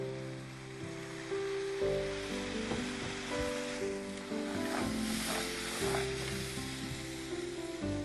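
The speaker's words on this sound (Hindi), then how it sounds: "फिर मसाले को अच्छी तरह से भूनेंगे।" Spice masala with green cardamom, cloves and black pepper roasting in a pan, giving a steady close sizzle with crackling bursts throughout, over a faint background tone and with no talking.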